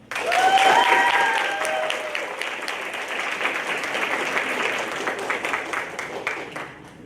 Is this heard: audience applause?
yes